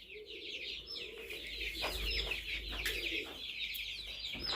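Chickens and roosters on a poultry seller's premises in Andijan cluck continuously, with sharp chirps and occasional louder calls over a steady low hum, close and fairly loud.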